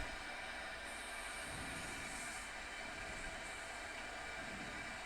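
A train rolls along the rails in the Train Sim World 5 video game, a steady, loud rumble of wheels and running gear that stays constant throughout with no voices.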